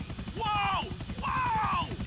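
A helicopter in GTA: The Ballad of Gay Tony chops along with a steady rapid rotor beat, a game voice or siren-like whine rising and falling twice over it, with talk mixed in.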